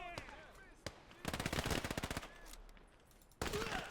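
Machine gun fire in a WW2 strategy-shooter game: a long rapid burst of rattling shots, loud and close, with single gunshots before it and another burst at the end.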